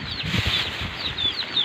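A small flock of Alangang chickens clucks and squawks in quick repeated calls close by, with wing flapping mixed in over a short busy burst.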